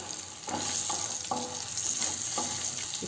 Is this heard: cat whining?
no